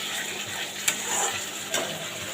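Water goes into a pan of sizzling paneer curry, giving a steady hiss and crackle with two sharp clinks, one near the start and one near the end.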